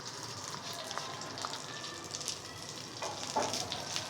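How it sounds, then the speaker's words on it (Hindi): Fresh curry leaves frying in hot tempering oil for a tadka over spiced yogurt eggplant: a steady, soft sizzle and crackle with occasional small pops, close and continuous throughout. "ये जैसे ही थोड़े से फ्राई होते हैं तो हम इसको झटपट डालेंगे बाउल में।"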